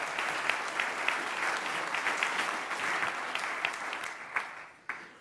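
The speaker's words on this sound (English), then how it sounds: "A round of applause for him" An audience at a symposium gives a round of applause for a judging panel member, even clapping that thins and fades out with a few last claps.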